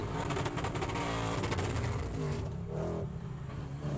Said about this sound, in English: You can hear the cackle through the exhausts on the run down to one.